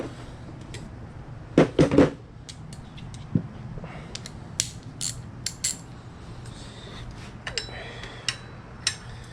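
A ratchet wrench works a 14 mm pulley bolt on a car engine during a cam and crank seal replacement, giving scattered metallic clicks and clanks with a few louder knocks, close by, with no talk.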